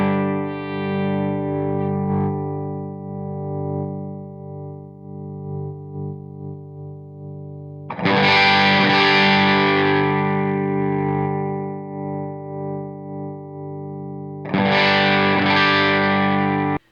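Sustained distorted electric guitar chords through an amp, the tone shifting from darker to brighter and crunchier, with two loud bursts of heavier gain.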